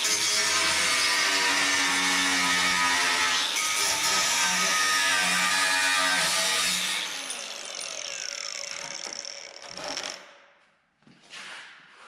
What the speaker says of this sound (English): now we just got to grind those off too